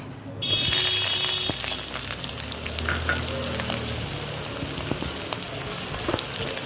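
Onions drop into hot oil with a bay leaf already in the pan, setting off a loud, close sizzle that swells at the start and then settles into a steady fry.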